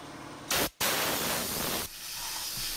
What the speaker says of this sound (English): Then I took my air compressor,